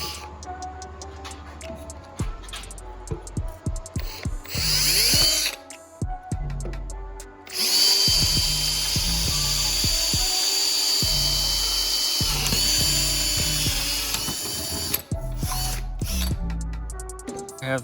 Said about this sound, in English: So when you drill these, you can drill it all the way.